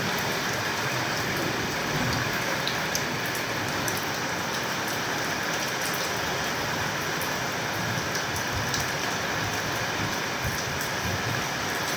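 Heavy rain pouring down steadily in Tirupati, a dense, even hiss of downpour on surfaces that holds at a constant level throughout with no voices.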